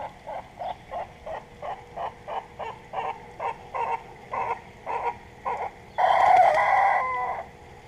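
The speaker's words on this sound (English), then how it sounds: "she's trying to crow" A backyard hen trying to crow, a close run of short rhythmic clucking calls that builds into one longer strained crow-like cry at the end.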